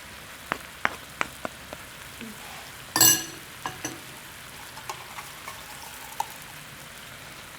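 Chicken and tomatoes fry on a tawa as ginger garlic paste goes in, making scattered sharp pops and crackles with one louder burst of sizzling midway, close and without speech.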